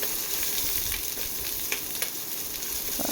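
Masala spices sautéing in hot oil in a pan for a potato sabzi, a steady close sizzle and crackle throughout with faint stirring scrapes and no talking.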